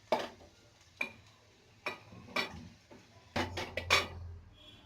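Fried onions for a raw jackfruit curry are tipped into a mixer grinder jar, a series of sharp clinks and taps of a spoon against the jar, spaced out then bunching together near the end.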